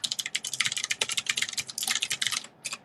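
A computer keyboard clatters fast and close as a password is typed, a dense run of crisp key clicks that stops briefly near the end before a few more keys.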